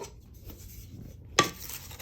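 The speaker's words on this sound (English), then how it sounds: "take the pot, I'm gonna give it a little stir" Tomato sauce being stirred in a pot: quiet scraping and sloshing, then one sharp clink of a utensil against the pot's side, close and otherwise faint.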